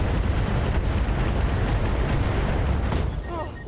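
A heavy barrage of missile explosions from the mech combat game RogueTech, a continuous loud rumble of overlapping booms that fades slightly at the end.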